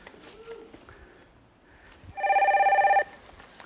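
A telephone on a cooking show set rings once for an incoming call, a loud, steady electronic trill lasting under a second, after quiet low studio sounds.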